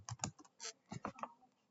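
A short run of computer keyboard keystrokes while entering a switch port access VLAN command, a few close, dull taps in an uneven rhythm, fairly quiet with no talk.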